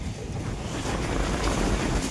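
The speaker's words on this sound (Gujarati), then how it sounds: "ફૂલ પવન નીકળી ગયો છે વાવાઝોડા જેવો." A strong storm wind blowing outdoors in front of a shop, a loud continuous roaring rush that slowly builds in strength, with heavy buffeting against the microphone.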